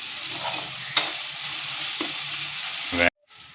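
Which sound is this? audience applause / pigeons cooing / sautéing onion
sautéing onion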